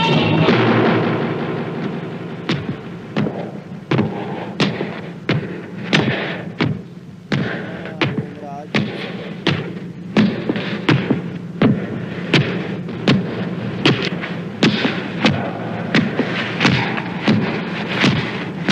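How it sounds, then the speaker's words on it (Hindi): Heavy, thunderous booms pound in a slow, regular rhythm like giant footsteps, loud and continuous with no voices. "ये किसके पदचाप की ध्वनि है"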